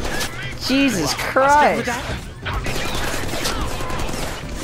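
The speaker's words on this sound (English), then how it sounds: "Can you stop shooting me?" Gunfire rattles in the Deadpool video game, dense bursts of shots under a man's loud, excited shouting.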